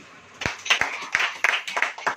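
A church congregation claps during a sermon, a few sharp hand claps quickly followed by scattered irregular clapping over about two seconds.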